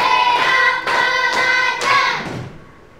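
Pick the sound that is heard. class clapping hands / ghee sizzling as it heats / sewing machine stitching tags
class clapping hands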